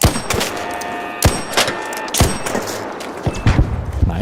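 Gunfire in the StarCraft 2 video game: several sharp, loud shots spaced irregularly, with ringing metallic tails between them.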